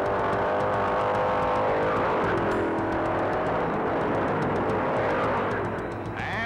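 Stock cars roar around the high-banked track at the 1964 Daytona 500, a continuous loud engine drone swelling as cars pass close by, with a brief tire squeal near the end.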